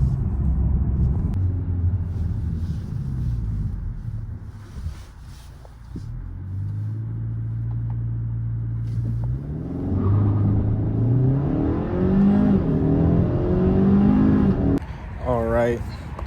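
2025 Kia K5 GT accelerating, a deep engine rumble building into rising revs through several gear changes, loud and close from inside the car, with a person talking over it.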